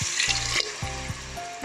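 Water poured from a glass into a hot pot of lobia masala being cooked dhaba style, splashing and sizzling briefly in a few short bursts at close range, with no talking.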